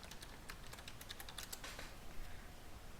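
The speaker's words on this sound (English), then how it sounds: "I'm going to type the credential here for directory service restore mode" Someone types a password for Directory Services Restore Mode on a computer keyboard while setting up a Windows Server 2019 domain controller: a quick run of soft, closely spaced keystrokes, quiet and near, that trails off toward the end.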